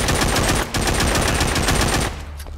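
Sustained 7.62 machine gun fire from the zombie shooter game The Walking Zombie 2, loud rapid automatic bursts with a brief gap, cutting off near the end.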